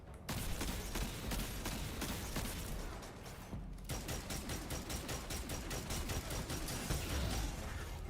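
Rapid bursts of video game gunfire crackle in dense, rhythmic volleys for several seconds, loud and close, with a brief lull midway before the shots resume.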